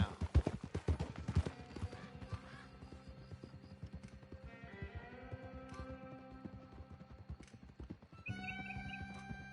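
A horse in the game Red Dead Redemption 2 trots with rapid hoof clip-clops at first, then gives long whinnies and neighs over in-game music tones, moderately quiet and close, with no talk.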